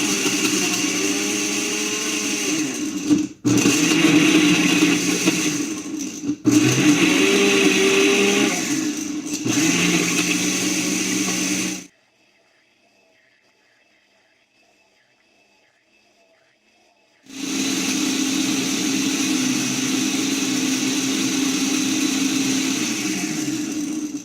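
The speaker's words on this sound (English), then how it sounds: "What color do you think the smoothie is going to be once I blend it?" A kitchen blender whirs loudly and steadily while blending a farm fresh smoothie, with brief stutters and a long pause before the motor starts again at full strength.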